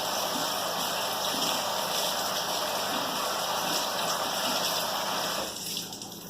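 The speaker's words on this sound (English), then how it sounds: "I'm just going to rinse them under hot water" Hot tap water runs steadily through a strainer of raw cashews, a loud, even close-up gush that eases slightly near the end, with no voices.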